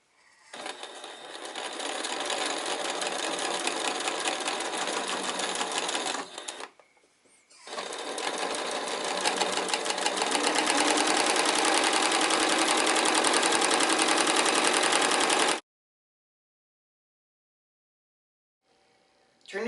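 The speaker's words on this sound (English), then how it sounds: "we're going to sew a straight stitch down the lines that we just drew" Sewing machine running a straight stitch on a shirt in two steady bursts with a short pause between, loud and close, then falling silent.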